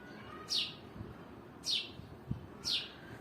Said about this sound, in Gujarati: મારે બોલવું નથી, કે ચકલીબેનનો અવાજ હું સાંભળ્યા જ રાખું એવું થાય છે મને.